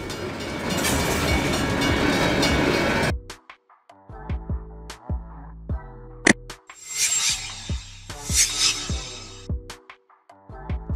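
A military train rolls past, starting with a loud, rushing roar of wagons that cuts off abruptly, followed by a sparse series of clanks, horn-like tones and rhythmic rail clicks.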